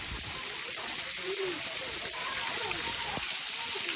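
Heavy rain pours steadily in a Punjab village in Pakistan, a dense, constant hiss of falling water close by, with faint voices now and then beneath it.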